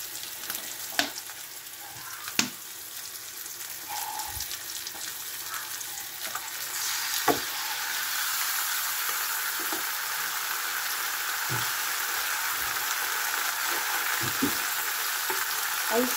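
Pieces of beef shank fry in a pan with a steady, close sizzle that thickens and grows louder midway through, with occasional clinks and stirring knocks over the hiss.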